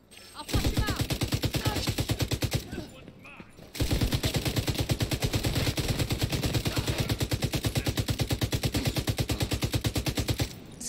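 A gun in The Division 2 fires long, steady automatic bursts, loud and close, with a brief pause early on before the rapid rhythmic shots resume and continue to the end.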